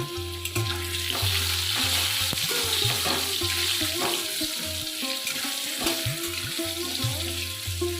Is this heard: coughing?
no